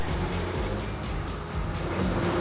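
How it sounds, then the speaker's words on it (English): A big 4WD truck drives off-road with a steady, loud engine drone and a continuous rumble, with no talking. "I'm keen to see how the big truck will go."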